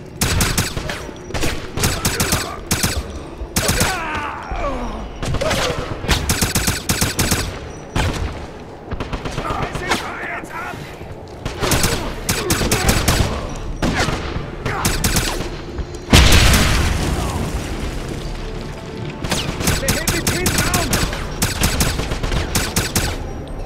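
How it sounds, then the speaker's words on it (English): Wolfenstein (2009) combat fills the scene with nearly continuous loud gunfire, dense rapid volleys and automatic bursts with a heavier blast partway through, and only brief dips between exchanges. "Shooting at me anyway."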